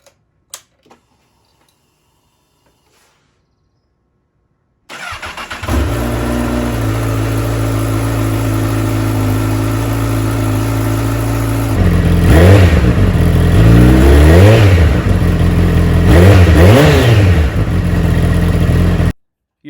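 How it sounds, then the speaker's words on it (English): A 2022 Honda CBR1000RR motorcycle engine starts after a few seconds of near silence, idles steadily and loudly to warm the oil, then revs up several times in surging bursts. "it was time to run the engine for a little bit and heat up the oil"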